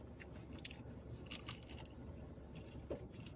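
Crunchy bites and chewing of Panda Express chili crisp shrimp, several close crisp crunches spaced irregularly, quiet and with no talking.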